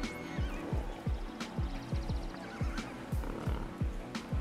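A horse in the video game Ghost of Tsushima, heard as rhythmic hoof clip-clops at a steady gallop-like pace with occasional snorting whinny sounds over a game soundscape, and no talk.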